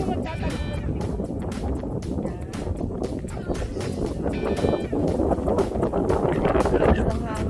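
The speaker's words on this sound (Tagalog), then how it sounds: "Lakas ng hangin." Strong wind on Kai Kung Leng ridge in Lam Tsuen Country Park buffets the microphone in a steady roar, with people talking underneath.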